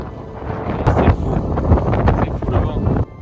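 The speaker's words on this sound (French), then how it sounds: "il y a tellement de vent" Strong storm wind roars and buffets the microphone continuously during a bicycle trip through Newfoundland, a loud, rough, broadband rush that swells and gusts for the whole stretch before cutting off abruptly.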